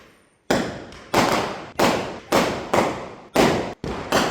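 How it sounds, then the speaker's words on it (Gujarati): A run of about eight loud, sharp firecracker bangs in quick succession, each trailing off in a short crackling decay, set off to celebrate India winning a cricket match. "એટલા માટે ફટાકડા ફૂટતા હતા"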